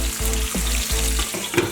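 Vegetables for ackee and saltfish softening in a hot pan, giving a close, steady sizzle broken by a few quick stirring scrapes, loud and alone.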